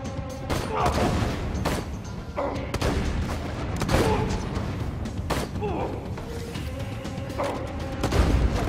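Sniper rifle shots ring out in Borderlands 2, a rapid series of sharp, booming reports spaced unevenly over several seconds amid other gunfire and combat noise, loud and close.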